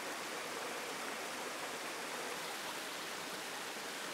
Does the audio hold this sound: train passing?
no